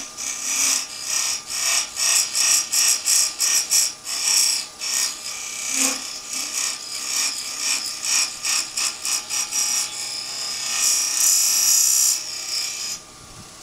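Woodturning scraper shaping a small wooden finial on a lathe, giving repeated rasping, chattering bursts of cutting noise in an uneven rhythm, close and fairly loud.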